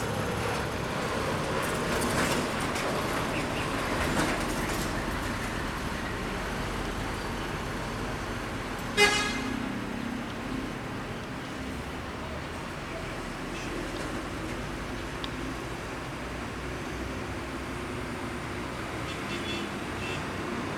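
An NPM Batavia intercity bus pulls away toward Jakarta amid roadside traffic, a low engine rumble with a brief sharp clank midway and steady background road noise.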